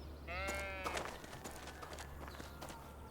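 Sheep in a children's cartoon about grazing give a wavering, drawn-out bleat, with other faint sounds and a low steady hum underneath.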